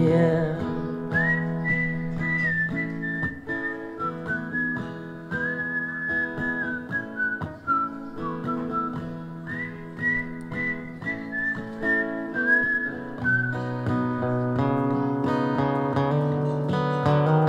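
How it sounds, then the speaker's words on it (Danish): A concert crowd at Allinge Gæstgiver whistles a melody together over a full band playing a song, the whistled tune rising and falling loudly and continuously above the music. "Har der nogensinde været fælles fløjt på gæstgiveren?"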